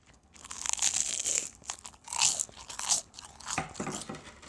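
Close, crisp crunching as someone bites into toast from a De'Longhi toaster, a few loud bites followed by chewing and crackly crumbling, with no talking.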